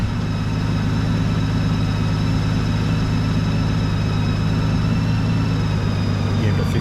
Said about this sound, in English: I'm going to crank up the bike.